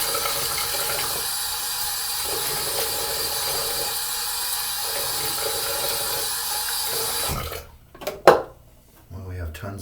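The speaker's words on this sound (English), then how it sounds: "let me go ahead and put on some water here." Water runs steadily from a tap into a sink during a wet shave, a continuous close hiss that stops abruptly near the end, followed by a few clinks and handling noises.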